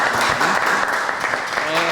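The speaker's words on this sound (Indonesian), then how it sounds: "Oke, tepuk tangan buat teman-teman." Audience applause for participants at a self-love talk, a dense steady clatter of many hands filling the whole stretch at close range, with some voices mixed in.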